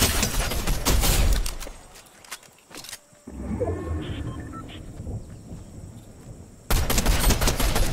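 Rapid gunfire in Fortnite from a very accurate gun, loud bursts of shots at the start and again near the end, with a quieter stretch of game ambience between.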